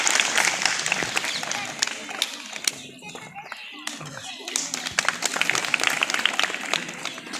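Applause from an audience of students and teachers for a student at a school event, lively scattered clapping that dips briefly in the middle and picks up again, with voices murmuring underneath.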